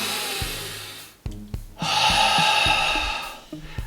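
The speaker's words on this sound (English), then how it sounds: "take some deep breaths through your nose" Someone draws deep breaths through the nose, a few long, close, hissing inhales and exhales in slow rhythm, set against a background of running activity.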